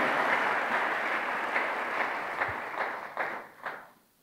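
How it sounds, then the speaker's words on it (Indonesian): A church congregation claps in a sustained burst of applause that thins out into a few scattered louder claps near the end before fading away. "Tepuk tangannya boleh yang paling meriah buat Tuhan kita."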